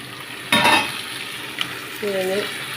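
Tomatoes drop into a pan of sizzling garlic and ginger for chicken biryani, giving one loud burst of frying hiss that fades, then a soft clink and a brief tonal scrape of the pan.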